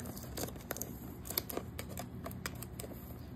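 Crisp snipping and crinkling of packaging, a quick irregular run of close cuts and rustles with no talking.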